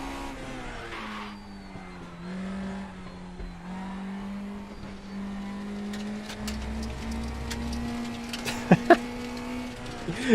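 A race car in RaceRoom drones steadily through a hot lap, the engine note rising and falling through corners, with a couple of sharp tire chirps near the end.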